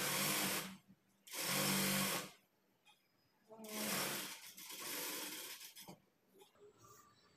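A sewing machine stitching a fold of cloth in short bursts, three or four runs of fast whirring separated by pauses, close and fairly loud.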